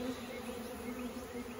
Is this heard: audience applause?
no